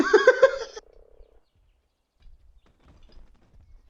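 A frog croaks in the video game Ark Survival Evolved: a quick, loud run of raspy croaks at the start, then a brief fading trail and near-silence with faint low rumbles.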